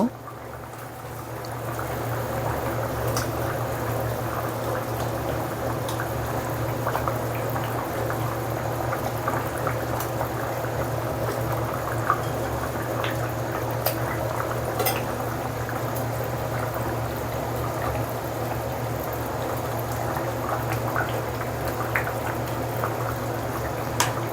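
Pieces of pangas fish go into a simmering curry of eggplant and taro, and the pot bubbles steadily and loudly throughout with faint liquid pops and trickles.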